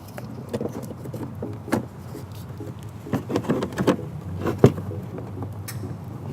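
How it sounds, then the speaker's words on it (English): Several small plastic clicks and handling noises close by as trailer wiring is installed on a 2016 Kia Sedona, with a sharper snap near the end as a connector seats, over a low background hum. "Push in until we hear the clip. Lock in place."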